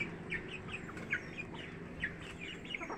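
A backyard flock of chickens clucking: repeated short clucks and chirps from several birds at close to middle distance over a steady outdoor background, with no talking.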